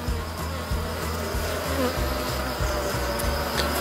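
Black honey bees drone steadily around an open hive during a colony inspection, a close, continuous buzz with a faint rhythmic pulsing underneath and no talking.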